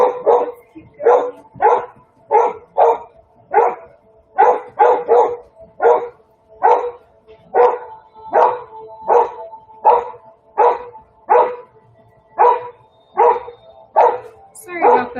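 A pet dog barks excitedly at other dogs passing outside, a long run of rapid, loud, close barks and yips in irregular bursts with a little talking mixed in.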